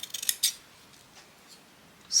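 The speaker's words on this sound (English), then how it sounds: "snip like that," Scissors snip through stems and wrapping while a Christmas flower arrangement is assembled, giving two or three quick crisp cuts at the start and another near the end, with quiet room tone between them and no talk.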